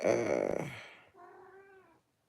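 A cat gives a loud, close meow and then a softer, rising follow-up meow, with no other sounds around it.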